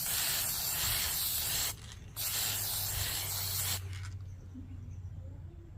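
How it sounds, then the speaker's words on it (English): A clear glossy finish coat is sprayed onto wood in two close, steady hissing bursts separated by a short pause, followed by a quieter low hum. "you can apply a clear coat or a clear glossy finish, whichever you prefer"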